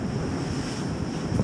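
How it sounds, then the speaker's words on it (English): Waves crash and wash at Shoalstone Pool in a steady seaside roar, with wind buffeting the microphone over the surf. "blur out all those crashing waves"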